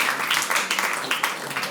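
Studio audience applause on a talk show, a short burst of lively close clapping that stays even throughout.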